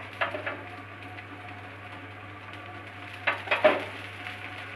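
A beetroot chilla fries in a thin layer of oil in a pan with a quiet, steady sizzle and a low hum, broken by a few brief louder spatters and utensil scrapes.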